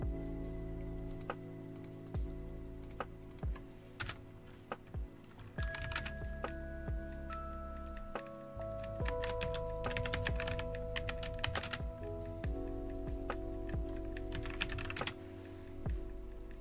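Computer keyboard typing at close range while logging in over SSH, bursts of rapid clicking keystrokes with short pauses over a low background hum, no speech.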